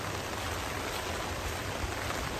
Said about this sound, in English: it's raining quite heavy now